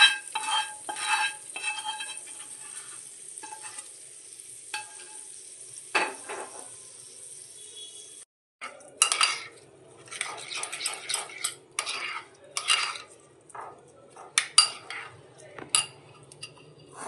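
Eggplant being stirred into grated coconut and mustard oil with curry leaves in a pan, a utensil scraping and clinking against the metal over a soft sizzle in short repeated bursts, with a brief pause midway.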